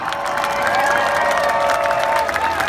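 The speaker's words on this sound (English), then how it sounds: "Let's give him a cheer down there in turn number 1." A race crowd at the 2017 Indianapolis 500 cheers for Fernando Alonso at turn one, a steady roar of voices with a continuous high hum running beneath it throughout.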